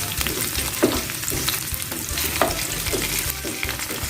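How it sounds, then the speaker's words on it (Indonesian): Bay leaves sauté in a pan of oil while cooking a pumpkin dish, giving a steady, close sizzle with scattered scraping and stirring strokes throughout. "ditumis sampai daun salamnya layu, sampai mengeluarkan bau wangi"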